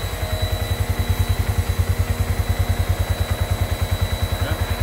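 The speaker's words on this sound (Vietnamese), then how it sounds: "mô tô mà nổ ru nữa nghe không" A cheap used motorcycle, nearly new and priced under 30 million dong, idles with a steady, rapid low thump close by, its even putter running alone without voices.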